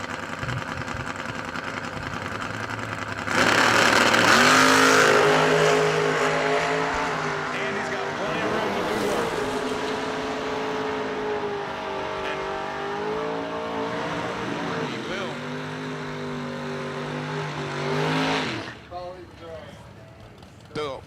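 Drag race cars, a 1967 Chevelle and a 1980 Flame Boo, rumble loudly at the strip, engines droning and revving in long sustained pulls while an announcer talks over them.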